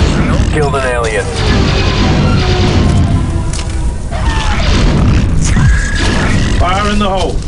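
A demolition charge detonates in the Star Wars Republic Commando video game, a loud sustained boom and rumble that runs through the whole stretch under overlapping game voices and battle noise.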